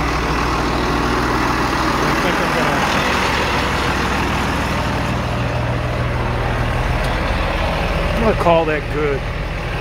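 A tractor engine drones steady and low at close range in a soybean field, with someone speaking briefly over it near the end.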